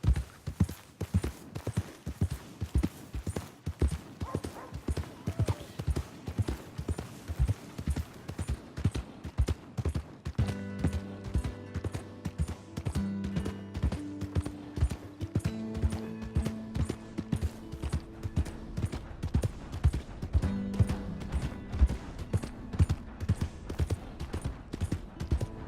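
Steady rhythmic horse hoofbeats clip-clop throughout at a trotting pace in the video game Red Dead Redemption 2, with a tonal musical score joining partway through.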